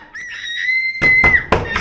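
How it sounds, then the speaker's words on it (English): A woman screams from behind a locked study door in a murder-mystery house, one long, high, sustained cry followed by several heavy knocks or bangs as the scream trails on. "The screams are coming from the study."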